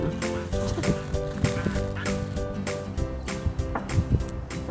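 Ducks quacking near a picnic table at an Auckland, New Zealand campsite, a dense run of honking calls that go on steadily and loudly throughout with no pauses.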